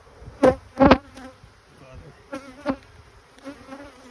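Honeybees buzz around an open hive in a sunny bee yard, loud close passes flaring in short bursts between quieter stretches of hum.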